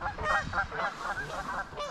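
Geese flying past over a flat-calm spring carp lake, honking loudly and continuously in a busy chorus of overlapping calls, fairly close and without any talking.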